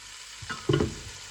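Onion and garlic hitting hot oil for a tomato sauce, a brief close sizzle and stir with a short scraping burst, lasting about a second.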